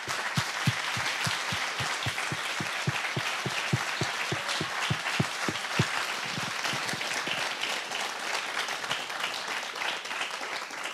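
A church congregation at a conference applauds the Lord, opening with loud rhythmic unison claps that then dissolve into a continuous roar of applause filling the room.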